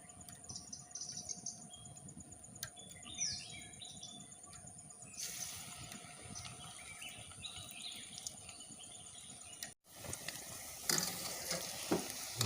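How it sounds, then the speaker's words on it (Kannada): Wheat flour snack dough fries in oil with a soft, continuous sizzle, joined partway by brighter hissing bursts, with faint bird chirps in the background. "ಒಂದೆರಡು ನಿಮಿಷ ಫ್ರೈ ಆದ ನಂತರ"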